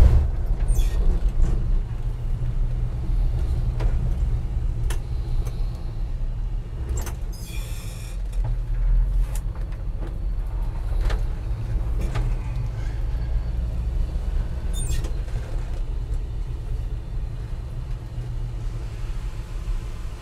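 A 1965 Chevy C-10 pickup drives through mud, its engine giving a steady, loud low rumble from up close, with brief clicks and rattles of the cab or chassis over rough ground and no talk.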